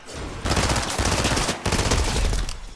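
Loud shotgun fire rings out during an online video game match in dense, overlapping bursts of rapid blasts, briefly interrupted twice, with no talking.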